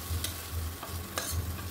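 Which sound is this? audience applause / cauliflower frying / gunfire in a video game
cauliflower frying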